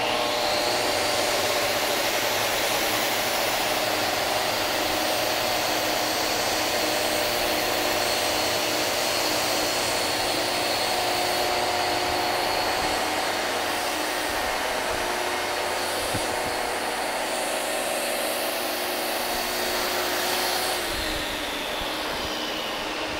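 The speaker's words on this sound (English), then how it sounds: "a shot blaster will clean out the joints and any holes in the floor" A concrete shot blaster with its dust vacuum running works across a concrete floor, clearing joints and holes, giving a steady, loud, broadband roar that holds on close by throughout with no talk.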